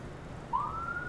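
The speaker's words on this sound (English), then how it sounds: "I'm going to try and turn on the siren." A single electronic police car siren tone starts halfway through and slides slowly upward, fairly faint over a steady low engine rumble.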